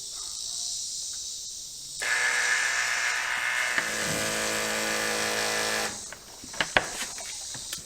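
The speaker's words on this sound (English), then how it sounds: "Kick the pump on." A 12-volt battery-powered pump switches on and runs with a steady, close electric whine and buzz for several seconds, then cuts off, leaving a few small clicks and knocks.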